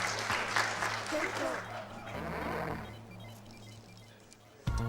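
An audience claps at a speedrun event, sustained applause that fades gradually over several seconds, with a sudden loud noise at the very end.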